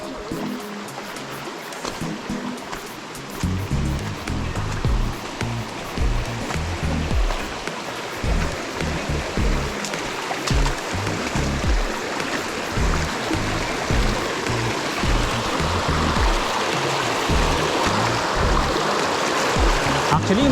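A rocky creek near Barriowin Falls in Sitio San Joseph, Antipolo City, rushes and burbles steadily at close range, a continuous loud wash of flowing water with a few faint voices underneath.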